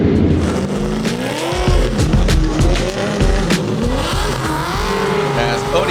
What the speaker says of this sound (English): As Odi Bakshis leaves the start line